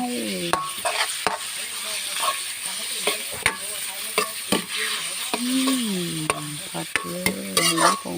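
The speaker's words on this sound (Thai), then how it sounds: "ใส่หมูลงไปเลย แล้วก็ผัดหมูให้สุกก่อน" Pork is stir-fried in a pan for a Thai long-bean and shrimp-paste dish, with a steady sizzle and repeated scraping and clinking of a utensil stirring close by, while someone speaks intermittently.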